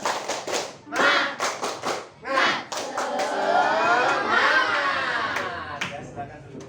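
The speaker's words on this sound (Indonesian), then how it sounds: "Tepuk semangat." Rhythmic group clapping in an Indonesian classroom "tepuk semangat" routine, a sequence of sharp claps in quick patterns followed by a longer sustained burst, with children's voices and speech mixed in.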